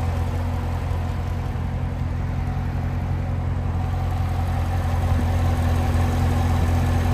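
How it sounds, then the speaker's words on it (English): A 2015 Chevrolet Corvette Stingray Z51 with an LT-based V8 of about 450 horsepower idles steadily, a deep, even rumble close by with no one talking. "There's your LT-based V8 engine."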